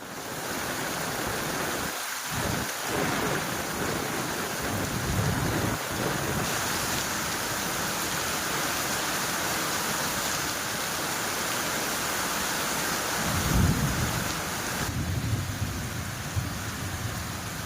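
Heavy rain pours in a steady, dense hiss across the whole stretch, with low rumbling bursts of thunder early and again near the end of the downpour.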